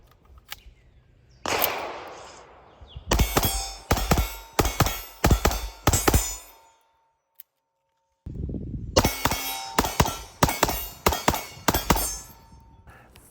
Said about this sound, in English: single stack, 9mm. Alternating double taps.